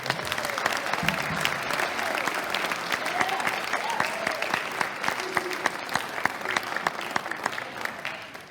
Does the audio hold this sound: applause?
yes